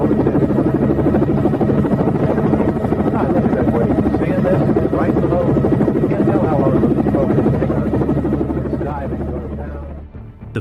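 A military helicopter's loud, steady rotor thrum and engine drone fill the whole stretch, fading slightly toward the end, with a voice talking over it.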